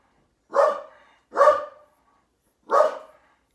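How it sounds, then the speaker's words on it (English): A dog barks three times at a mail delivery, each bark a loud, separate woof with short pauses between, indoors and close, with no talking. "And my dog doesn't like deliveries."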